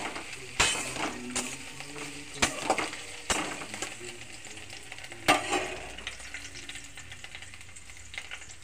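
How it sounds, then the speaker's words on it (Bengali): Sliced bitter gourd frying in hot oil in a wok, a low steady sizzle broken by several sharp scrapes and knocks of a spatula stirring against the pan, close by and without speech. "আর এই উচ্ছেটাকে একটু হালকা লাল লাল করে একটু ভেজে নেব।"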